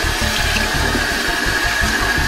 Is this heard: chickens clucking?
no